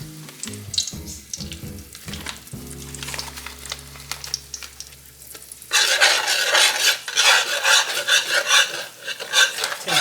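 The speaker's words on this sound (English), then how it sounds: "Let me go ahead and put my curry in this and burn this curry real quick." Curry powder added to chicken in a hot pan, first clattering stirring with a low hum, then a loud, steady sizzle of frying that crackles on to the end.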